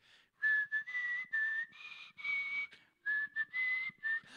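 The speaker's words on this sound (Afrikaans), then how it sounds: "Ek kon fluit sonder dat hulle weet dis ek." A person whistles a tune in clear, sustained notes grouped into short phrases with brief pauses, close and alone.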